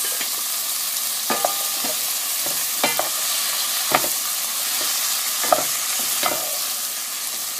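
Potatoes being stirred into tomatoes in a cooking pot for a string bean, tomato and eggplant curry, with repeated scraping stirs over a steady low sizzle, close and alone.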